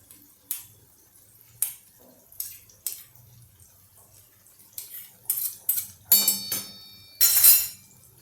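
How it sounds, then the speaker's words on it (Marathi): A spoon presses and taps against hot cooked raw mango in a pan, giving scattered metallic clinks and soft squashing knocks, sparse at first and growing busier toward the end, close and without talk. "चमच्याने मी तुम्हाला दाबून दाखवते"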